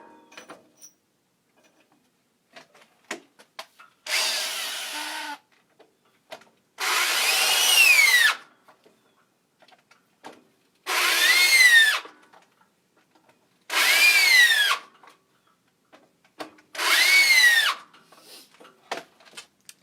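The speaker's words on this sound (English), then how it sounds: "what is that horrible noise? Well, that is my drill that's ready to die" A rough, whining worn-out electric drill runs in five separate bursts of a few seconds each, with short quiet pauses between them.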